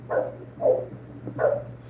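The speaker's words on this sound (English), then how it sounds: "Somebody's got a dog barking" A dog barks three times in quick succession, fairly close and clear, over a low steady electrical hum with no talk.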